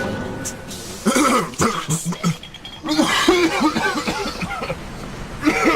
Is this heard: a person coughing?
yes